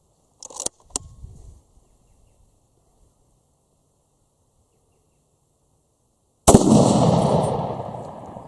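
A Rigby Highland Stalker rifle is fired into ballistics gel: faint clicks and handling come first, then a single sharp, loud shot close by, followed by a long, rumbling decay.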